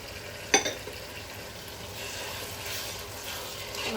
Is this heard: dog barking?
no